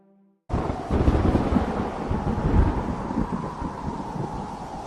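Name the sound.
thunderstorm with strong wind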